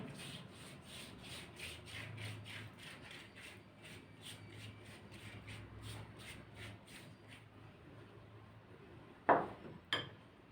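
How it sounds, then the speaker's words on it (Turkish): A pastry brush spreading oil over a thin sheet of yufka dough, a soft rhythmic rubbing and swishing at close range, stroke after stroke, ending with a couple of sharper taps. "Ve fırçayla güzelce süreceğim."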